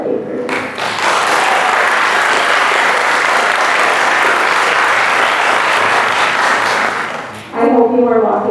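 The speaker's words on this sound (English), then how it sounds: "if we could give a round of applause for our 8th graders" Teachers and families at an 8th grade recognition ceremony give the graduates a loud, sustained round of applause from a large crowd, continuing about seven seconds before fading into a voice.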